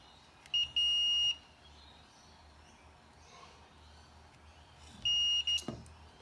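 A multimeter set to ohms and continuity gives two steady high beeps, each about half a second to a second long, several seconds apart, over a faint room hum.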